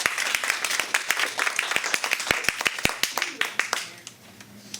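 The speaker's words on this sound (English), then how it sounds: "so a round of applause for Rachel." A small open-mic audience in a bookstore claps for a performer, a dense burst of close, sharp hand claps that thins out and fades toward the end.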